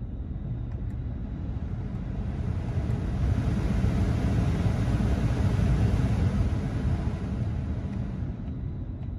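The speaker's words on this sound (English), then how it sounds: "I'm gonna crank the speed up here and we'll just start to hear it come out of this vent." Blower fan of a 2003 GMC Sierra 2500HD SLE 4x4 with the 8.1 engine, cranked to high speed and blowing through a dash vent: a steady, close, broadband whoosh with deep rumble that swells slightly in the middle.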